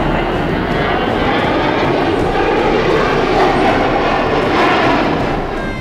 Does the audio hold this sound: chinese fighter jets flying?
yes